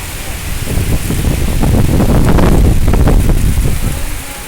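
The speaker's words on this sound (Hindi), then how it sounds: "ये देखो कितनी तेज बारिश हो रही है।" Heavy rain driven by strong wind, a loud roaring wash that swells and gusts, buffeting the microphone, with no talking heard.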